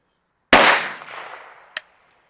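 A single pistol shot from a Polymer 80 build fitted with a compensator, firing CFE pistol loads: one loud, sharp crack with a ringing decay, followed about a second later by a short, sharp metallic click.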